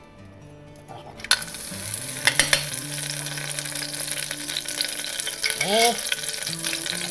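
Onions and fragrant sambal paste sautéing in a hot pan while making a bamboo shoot and beef curry, a steady sizzle with scraping stirs and utensil clinks, a brief spoken word near the start.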